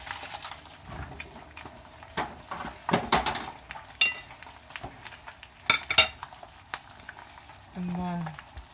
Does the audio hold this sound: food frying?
yes